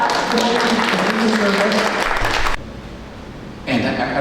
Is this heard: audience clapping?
yes